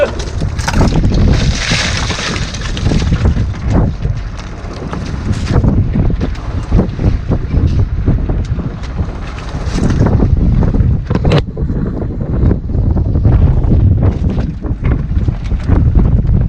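Wind and waves on a fishing boat in rough weather, gusting wind buffeting the microphone with repeated slapping and splashing of water against the hull, loud and continuous.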